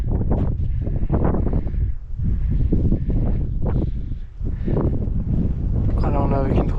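Strong wind buffeting the microphone on the slopes of Mount Taranaki, a loud continuous roar that gusts up and down throughout, close and rough, with a brief higher whistle near the end.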